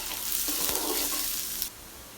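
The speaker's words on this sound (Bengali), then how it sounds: "পেঁয়াজগুলো ভাজা হয়ে গেছে" Chopped onion and garlic frying in hot oil, a close, busy sizzle with a scrape of stirring midway, dropping abruptly to quiet near the end.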